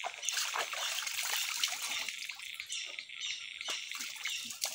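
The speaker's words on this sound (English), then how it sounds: "So I wash my hands now. Water from the forest." Forest water trickling and splashing over hands as they are washed outdoors, a steady close dribble with occasional splatters and faint birds in the background.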